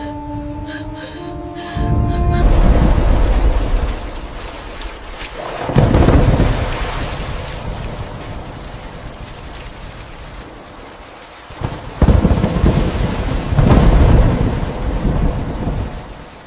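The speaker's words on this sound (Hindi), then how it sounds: "अभी बारिश कैसे होगी यार" Heavy rain pours steadily in the desert while deep rolls of thunder swell and fade at least twice, loud and close, with no voices.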